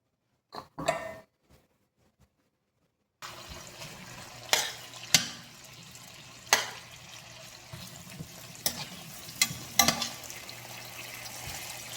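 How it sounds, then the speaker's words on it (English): Onions, garlic, scallions, peppers and tomatoes sauteing together in a pan for Jamaican saltfish run down, a steady low sizzle with several sharp clinks and stirring knocks over it, after a few quiet handling sounds at the start. "So I'm sauteing my onions, garlic, scallions, peppers, tomatoes, all in a blend."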